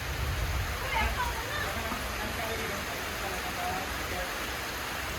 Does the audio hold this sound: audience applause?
no